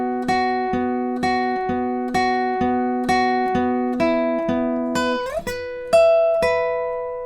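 Guitar picking a song's line, clean single notes plucked in an even repeating pattern across strings, ringing clearly alone with a slide into a higher note near the end.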